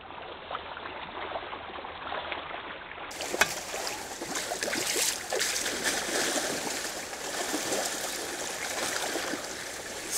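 Morrison Creek on Vancouver Island flows during a salmon run, a steady broad rush of water with scattered splashes and trickles throughout, fairly close and continuous with no talk.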